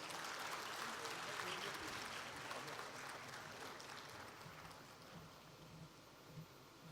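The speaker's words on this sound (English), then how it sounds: "Can we have a round of applause" A management conclave audience applauds during a memento presentation with a soft, continuous wash of clapping heard at a distance that gradually thins out.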